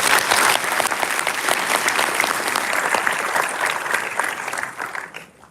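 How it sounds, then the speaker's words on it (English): A large audience at a Google Cloud Community Day event applauds the event team, loud and sustained clapping that fades out near the end. "A big round of applause for the team."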